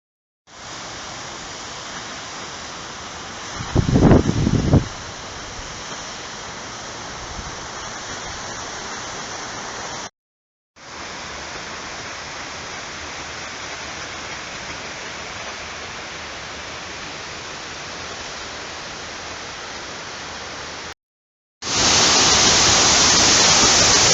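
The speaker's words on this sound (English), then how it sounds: "Loud sound you could hear in the video was the waterfalls in the area, the fountains." Waterfalls and fountains near the San Antonio Tower at night make a steady broadband rush of falling water, continuous across several cuts, with a brief louder splash early on and a harsher burst at the end.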